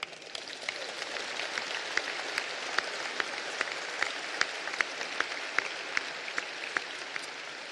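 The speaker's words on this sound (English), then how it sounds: "I want you now to give yourselves a big clap" Athletes clapping for themselves at the closing ceremony of an international games, a steady wash of many hands with sharper individual claps standing out, continuous with no talk.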